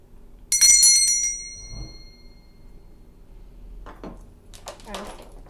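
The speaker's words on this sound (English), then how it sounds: "I'm also going to ring my bell" A small hand bell rings once, bright and clear, then slowly decays into quiet room tone, followed a few seconds later by a short burst of talk and a clatter in the background.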